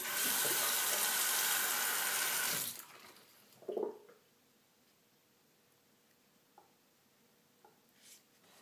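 Water runs in a loud steady splash onto a sharpening stone for about three seconds, then stops abruptly, followed by a few faint clinks and small handling sounds.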